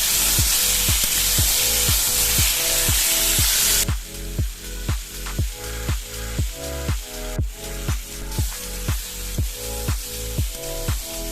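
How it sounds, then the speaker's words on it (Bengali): Mango pieces stirred in hot oil with tempering spices, a loud steady sizzle of frying first, then rhythmic scraping strokes of the spoon through the pan, repeating about twice a second with no talking. "এর মধ্যে ফোড়নগুলি দিয়ে মধ্যে কেটে রাখা আমগুলি দিলাম, দিয়ে এবার ভালোভাবে নাড়তে থাকবো।"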